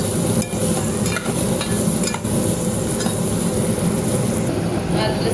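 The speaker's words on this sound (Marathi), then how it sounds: "आता हे तेलामध्ये चांगलं परतून घ्यायचं." Onions sauté in hot oil with salt, a constant close sizzle with intermittent clanks and scrapes of a spatula against the pan.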